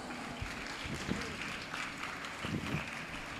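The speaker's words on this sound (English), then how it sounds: "Audience, please give a huge round of applause." Faint, distant audience applause at a youth physics conference, an even wash of many hands clapping steadily for a few seconds with a few louder thumps, heard alone without talk.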